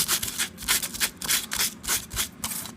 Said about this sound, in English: I like to just take sandpaper, rough it up, so you have something for the glue to grab onto